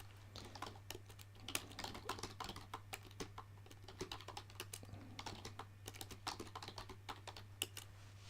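Rapid typing on a computer keyboard while configuring network routers, with irregular bursts of crisp close key clicks over a steady low electrical hum.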